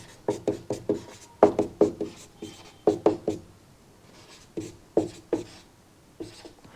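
Chalk or pen strokes of a hand writing a formula on a board in short clustered bursts of scratchy taps with pauses between groups, close and clear, no talk.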